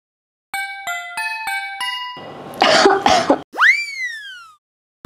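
A short burst of coughing from a person, loud and close, between bright electronic chime and boing effects with no talk over it.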